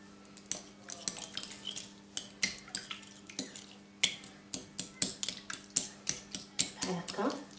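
A utensil stirs a mixture of yogurt and triangle cheese in a bowl for a chicken and vegetable quiche, producing a quick, irregular series of close metallic clinks and scrapes against the bowl's sides.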